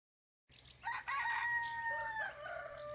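A rooster crows in the early morning countryside, with a drawn-out cock-a-doodle-doo and bright overlapping calls from other birds, moderately close and with no talking.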